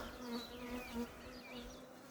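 Honey bees buzz steadily around a hive frame, a close, continuous drone with shifting pitch as individual bees fly past, heard on its own without talk.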